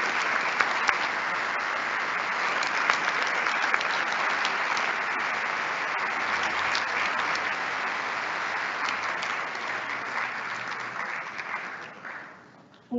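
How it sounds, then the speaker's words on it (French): Sustained applause from a large audience at a bachelor graduation ceremony, steady and dense for about twelve seconds before fading out at the end. "On peut les applaudir."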